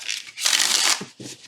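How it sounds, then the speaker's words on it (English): A tarot deck of thin cardstock being shuffled close by, a dense papery riffle rising to a sustained flutter before trailing into lighter taps and slides. "let's see how this deck shuffles"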